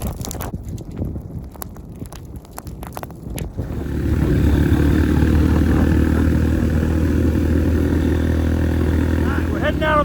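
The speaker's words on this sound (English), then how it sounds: "We're heading out on the bike." A motorbike engine starts up and settles into a steady low rumble near a farm field, continuous and loud after a few seconds of scuffling handling noise.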